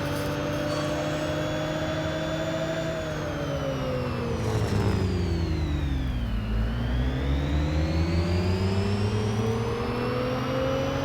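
A Renault Dezir Concept 150 hp car engine in the racing video game Real Racing 3 revs steadily with harmonic whine, pitch dipping and then climbing again as it shifts, continuous and fairly loud, with no voices.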